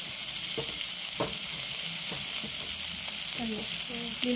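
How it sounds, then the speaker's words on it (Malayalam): Chicken frying in a pan sizzles with a bright, constant hiss while a utensil scrapes and stirs through it in several distinct strokes, the clatter rising toward the end, close and loud with no talk. "നമുക്ക് വീണ്ടും ഒന്നുകൂടെ ഇളക്കി കൊടുക്കാം"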